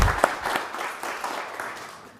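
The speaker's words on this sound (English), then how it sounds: "round of applause for Caleb" Applause for Caleb at a university pitch competition final round, starting with a few sharp near claps that settle into a thinner, fading patter of clapping over about two seconds.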